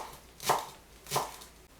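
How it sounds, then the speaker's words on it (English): Two crisp, close knife chops land on a cutting board as garlic leaves are cut into small chunks, spaced under a second apart, with no talk. "Cut 200 grams of garlic leaves into small chunks."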